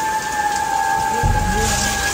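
Steady, dense heavy rain hisses over everything beside a flooding river, with a low rumbling swell partway through and faint voices in the background.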